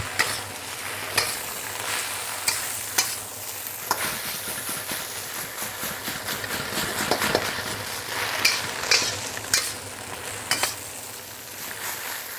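Vegetables for a vegetarian Chinese stir fry sizzle and crackle in a hot pan as leaves wilt, with regular sharp scraping stir strokes; close and steady, with no talking.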